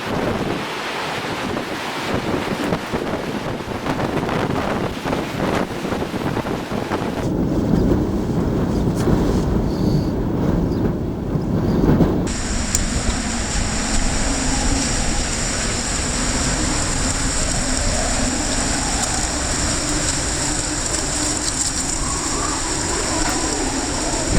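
Hurricane Charley in Punta Gorda, Florida, 2004: loud roaring wind buffeting the microphone with rushing rain, a constant heavy blast that shifts to a steadier whistling howl partway through.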